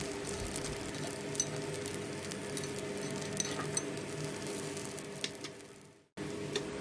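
Millet paniyaram batter cooks in a pan over a medium flame, giving a soft, steady sizzle and light patter close by with faint scattered pops, cut by a brief dropout near the end, with no talking.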